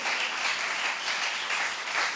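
A church congregation claps and cheers in a full, continuous roar of hands, loud and even with slight pulsing swells.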